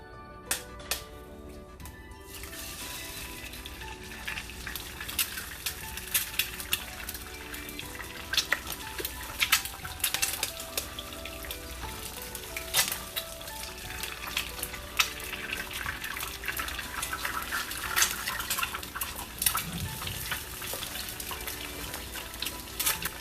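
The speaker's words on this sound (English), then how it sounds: "Let's fry our eggs" Eggs fry steadily in oil in a pan for a breakfast taco, a continuous close sizzle with scattered crackles and pops, no talking.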